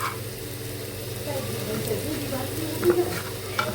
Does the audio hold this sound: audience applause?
no